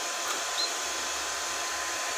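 Hair dryer blowing warm air on a pet bird after its bath: a steady, even whoosh of a small motor and airflow, close and unbroken, with no talking over it.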